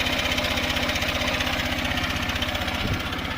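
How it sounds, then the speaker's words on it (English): A Honda CB125F motorcycle engine with a repaired cylinder head runs steadily at idle just after a long ride, a close, even pulsing chug with a faint extra mechanical noise. "There's definitely some noise coming from the engine."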